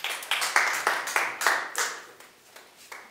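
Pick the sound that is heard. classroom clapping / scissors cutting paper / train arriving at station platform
classroom clapping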